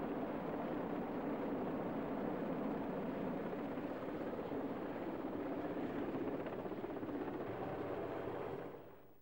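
Military helicopter rotor and engine noise from RAF operations ferrying troops and materials toward a front line, a steady loud broadband drone with a low throb that fades at the end.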